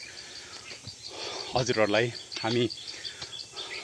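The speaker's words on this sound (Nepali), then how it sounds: "चराचुरुङ्गीहरू कराइरहेका छन् जङ्गल" Birds chirp in a forest during a walk, their small calls repeating steadily in the background while someone talks loudly over them for most of the stretch.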